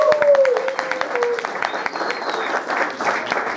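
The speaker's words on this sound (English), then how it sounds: "Can we get a round of applause for Eric?" At a live concert in Holland, a small audience claps in a round of applause. The claps are distinct and fairly close, with whistles and a few voices mixed into the crowd.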